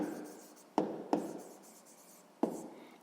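Pen or pencil strokes scratch across paper as numbers are written by hand, three sharp taps each trailing into short rubbing strokes, close and quiet with no talk over them.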